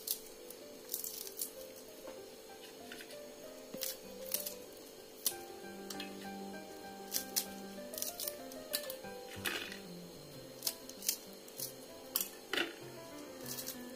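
Ginger and chillies being cut for a curry leaf chutney, with soft, irregular knife-on-board chops and squishes spread through the clip over a steady background hum, with no talking.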